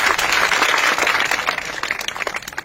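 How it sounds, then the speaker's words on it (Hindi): Loud, dense clapping from a crowd of students and teachers watching a performer's stunt show, steady at first and then thinning slightly toward the end. "मुर्शिद लाल कलंदर के नाम की ताली लगाएं"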